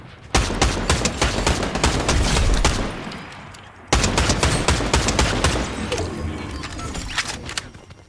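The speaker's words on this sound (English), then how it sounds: "I hear shooting" Rapid bursts of gunfire from a Fortnite match, dense and loud, with a short pause midway before the shooting resumes and continues steadily to the end.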